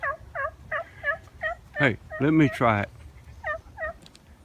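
Wild turkeys gobble in reply to calls during a backwoods turkey hunt, a string of loud, close, rattling gobbles repeating over a few seconds, with someone briefly speaking partway through.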